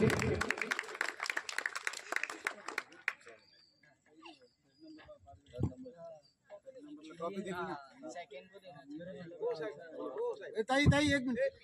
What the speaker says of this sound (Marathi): जोरदार टाळ्या होते प्रियासाठी.